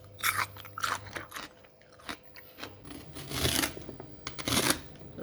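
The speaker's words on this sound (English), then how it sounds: "It's very crunchy and juicy." Fresh, home-grown pak choi bitten and chewed up close, with loud, wet crunches in bursts separated by quieter chewing.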